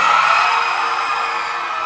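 A concert crowd at a show shouting and cheering together, a loud, dense roar that holds steady and fades slightly over a couple of seconds.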